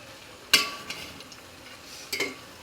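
Bottle gourd and lentils stirred in a cooking pot, two brief scraping clinks of a utensil against the pot over a quiet background.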